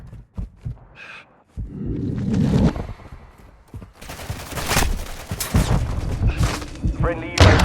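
Heavy gunfire in Call of Duty Modern Warfare 2: bursts and sustained automatic fire with thumps and booms, close and loud throughout, with shouted voices mixed in.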